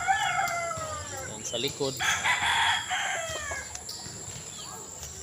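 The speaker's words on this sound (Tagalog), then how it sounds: "Dito tayo sa kanyang manukan. Dami siyang manok." Roosters crow nearby at a gamefowl farm in Cavite, Philippines, overlapping calls with hens clucking around them, while someone speaks briefly in the foreground.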